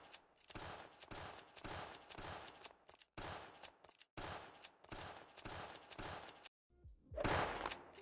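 Gunfire in the shooter GunZ, with weapons switched between shots: rapid, dense bursts of shots come in clusters split by brief silences, then one louder, harsher blast at the end.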